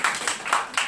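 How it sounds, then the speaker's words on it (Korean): Brief burst of applause from a teacher audience at a school-violence prevention training session, with several distinct clap swells in under a second, moderately loud in a room. "안 계시지만 박수 좀 드려"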